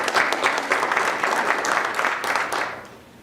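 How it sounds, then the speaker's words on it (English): Applause from a lecture audience at a memorial lecture, brisk crowd clapping that holds steady for a few seconds and then fades out. "So round of applause."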